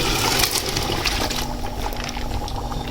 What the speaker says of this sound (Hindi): मैं 1 मग्गा भर के जो है साथ पानी का ऐड कर रहा हूँ, मिक्स कर लेंगे।